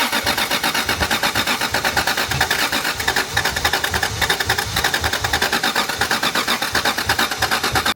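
Toyota Supra rally car engine being cranked over and trying to start, a loud, dense, continuous churning with rapid rhythmic pulses throughout, close by, with no voices.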